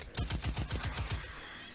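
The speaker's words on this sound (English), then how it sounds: "Ooh, that's a scout rifle, I think." A scout rifle in Destiny 2 fires a quick, evenly spaced run of about seven sharp cracks close up, each shot punchy and distinct, with the firing stopping abruptly after about a second.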